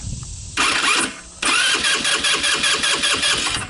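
A Tao Tao Bull 150 ATV engine cranks in two bursts, a short one then a longer rhythmic churning with steady repeated pulses, close and fairly loud.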